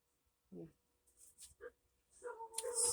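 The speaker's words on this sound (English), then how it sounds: "The kids must be home. The dogs are going wild." Several dogs barking, yipping and whimpering in an excited burst, nearby in a home, with someone talking over them; the noise swells toward the end.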